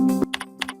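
Keystrokes on a computer keyboard while entering an employee address in Sage 50 accounting software: a quick, close run of a few crisp clicks over a low hum.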